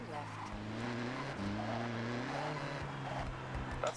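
A time attack car in Forza Horizon 6 accelerates hard, its engine droning steadily with rising tones and a brief shift, loud and close under game audio and talk.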